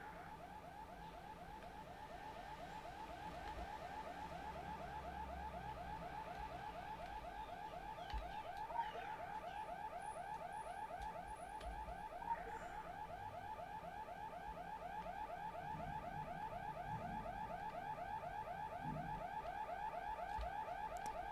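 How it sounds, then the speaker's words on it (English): A repeating electronic alarm blares inside a facility in the video game Secret World Legends, a rapid pulsing tone cycling steadily without pause, heard faintly alone with occasional soft clicks. "Oh, the alarm is still going."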